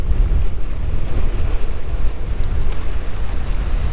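Strong gusting wind roars across a heeling sailboat motor sailing at sea among the Kornati and Telascica islands of Croatia, with a loud, continuous buffeting rush and wash of waves, close and unbroken.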